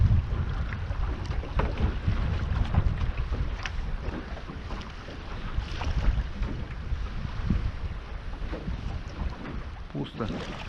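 A small boat runs under motor while checking longlines, giving a steady low rumble with heavy wind buffeting on the microphone and splashes of water throughout.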